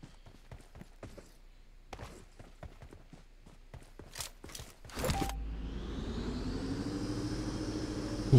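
Car engine in an online battle-royale video game: a run of sharp footstep-like taps first, then a low engine hum kicks in and holds steady and moderately loud to the end.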